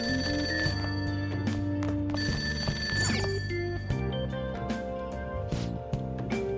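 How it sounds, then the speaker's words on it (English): A telephone rings downstairs in the Persona 5 video game, with repeated bell-like tones sounding over a steady backdrop of layered musical notes. "That ringing sound isn't coming from my cell phone."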